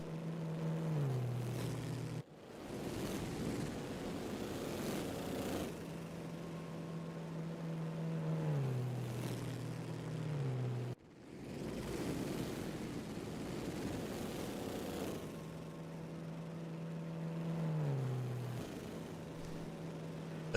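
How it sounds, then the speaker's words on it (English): A Bugatti racing car engine at the 1923 Spanish Grand Prix, a loud continuous mechanical roar that rises and falls with a pitch sweep as the car passes. Brief breaks punctuate the steady drone, and no voices are heard. "But the strength of the Bugatti's engine helping to carry Itonen here further and fur"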